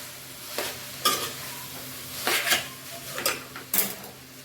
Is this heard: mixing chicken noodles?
yes